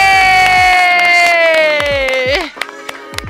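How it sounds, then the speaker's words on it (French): Children cheer at a birthday pony ride, one long, bright, sustained shout carrying over the crowd before it breaks off into scattered hand claps and short calls. "Est-ce qu'on peut applaudir?"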